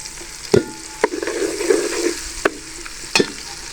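Browned onions and garlic-ginger paste sizzle in a pot for aloo matar biryani, with a steady fry broken by several sharp clicks and scrapes of the stirring spoon.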